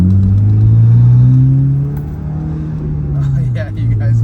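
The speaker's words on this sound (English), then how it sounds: "Oh man, the wastegate, the induction noise on this thing is intense." A 12-year-old Mitsubishi Lancer Evolution X runs loud and close, its engine induction rumbling as the pitch swells and settles, with a hissing wastegate edge on top.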